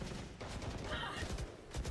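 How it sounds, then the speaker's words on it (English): Scattered gunfire from a Valorant-style esports match, with stray shots and bursts crackling close over a steady bed of game noise and crowd-like background, with a few heavier hits near the end. "A lot of bullets flying forwards here. Stray shots."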